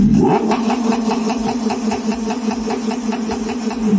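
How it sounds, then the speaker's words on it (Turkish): A new scooter's engine runs close and loud, a steady buzzing drone with a fast, even pulse throughout and slight swells in throttle. "Bak bak motorun sesini dinle bak. Ara gaz vereceğim şimdi bak."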